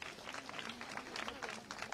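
A crowd at an outdoor county government event applauds local doctors, a faint, dense clapping that carries on steadily through the short stretch with a low murmur underneath.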